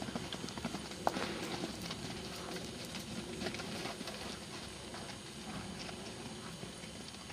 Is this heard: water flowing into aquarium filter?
no